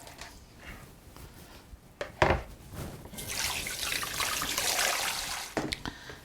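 Tap water runs into a kitchen sink while food is rinsed for a Lebanese summer squash and rice dish. A few close clunks come first, then a steady stream pours for several seconds.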